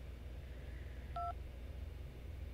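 In Syberia II, a telephone sends out a single short, clear touch-tone dialing beep over a low, steady background hum, quiet and alone with no voices.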